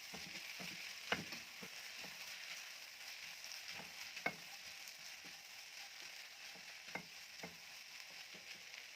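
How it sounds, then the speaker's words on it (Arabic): Green peppers stir-frying with meat in a pan make a steady, faint sizzle, with occasional light clicks and scrapes of stirring scattered across it, no talking. "هننزل بالفلفل بتاعنا برضو نديله تشويحة شوية كده مع اللحمة"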